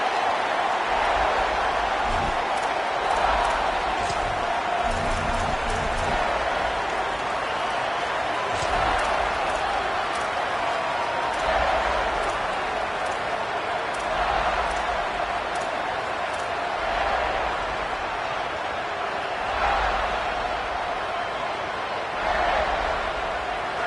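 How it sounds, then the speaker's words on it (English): A big football stadium crowd roars in a sustained, loud wash of cheering that swells and eases across the clip, with a broadcast voice talking underneath. "This crowd ready to make its presence known."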